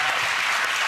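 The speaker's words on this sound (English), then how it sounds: "round of applause" A studio audience at a television quiz show claps in a brief, dense, steady burst of applause, close and even throughout with no speech over it.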